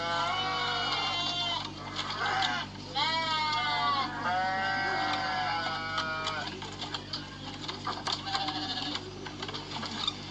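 Sheep bleat several times in quick succession, loud and wavering, over a steady low hum with scattered clicks and rattles. The bleating fades into busier background clatter toward the end.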